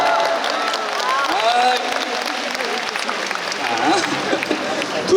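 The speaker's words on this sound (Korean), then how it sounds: "박수 주세요!" A crowd at a concert in Incheon claps and cheers in a loud, steady wash, with excited voices and shouts rising above the applause.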